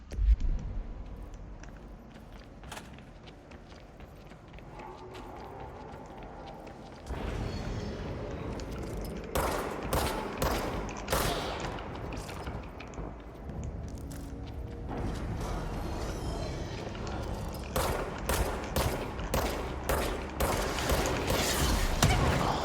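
Rapid gunfire in the video game Control, with fast bursts of shots and booms over a steady rumbling game soundscape that swells louder partway through, dense and continuous with no talk.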